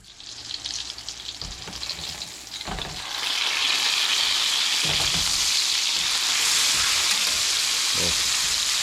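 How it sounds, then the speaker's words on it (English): Rinsed potatoes sizzle in hot oil at a cabin, quiet at first, then a loud steady frying hiss that swells after a few seconds and holds, close by, with a few clunks as the pan is handled and no talk. "I rinsed some spuds off here, so we get some oil going."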